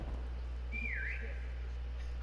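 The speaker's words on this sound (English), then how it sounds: "It's whistling." A single rising-and-falling whistle sounds in Call of Duty Cold War, a short clean tone lasting about half a second, faint over a steady low hum with no talk.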